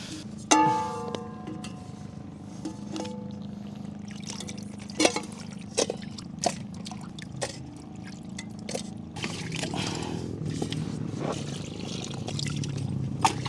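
Water pours into a cooking pot for shrimp at a solo campsite, a steady trickling pour that rises in level over several seconds, with a few clanks of the pot and faint background noise.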